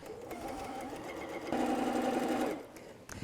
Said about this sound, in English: we're going to just sew these 2 pieces together